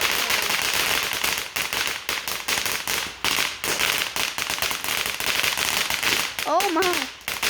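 Fireworks burst at a firework show in a rapid, dense series of sharp loud bangs and crackles, with brief gaps between volleys and a whistling rocket near the end.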